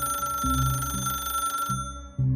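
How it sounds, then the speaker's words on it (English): A telephone rings on and on with no one answering: a steady electronic ring pulses in repeated bursts, briefly cuts out near the end, then starts again. "The mother listened to the phone ring, and ring, and ring."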